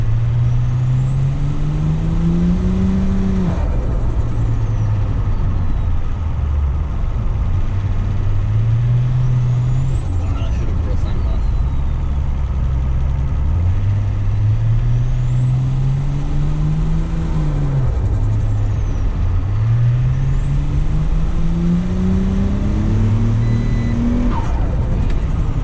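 Toyota Crown JZS171 with aftermarket intake and no blow-off valve accelerating hard and breaking traction, engine loud and close as revs climb and drop through repeated shifts, with faint tire noise throughout.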